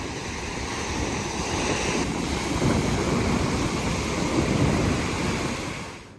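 Ocean surf rolls in at high tide on a Marin coast beach, a loud continuous wash of breaking waves with wind rumble across the microphone, fading slightly at the end, with no voices.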